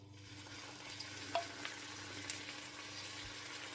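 Cauliflower pieces sizzling in hot oil for a masala fry, a steady soft frying hiss with a low hum beneath and a couple of faint clicks.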